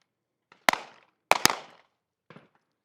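Handgun shots during a close-range defensive shooting drill: three sharp reports, the middle one a quick double, each with a short decaying echo at moderate distance.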